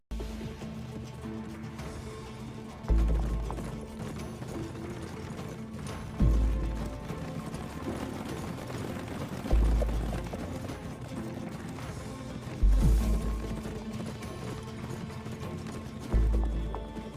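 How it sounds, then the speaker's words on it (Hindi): A horse gallops at speed through a forest with steady clip-clop hoofbeats. Heavier thuds recur every few seconds, and the sound stays mid-distance and moderately loud throughout. "इसी दौरान एक तेज़ रफ्तार घुड़सवार जंगल में अपना घोड़ा दौड़ा रहा था।"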